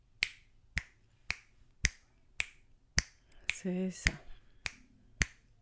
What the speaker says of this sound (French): tu suis le bruit de mes claquements de doigts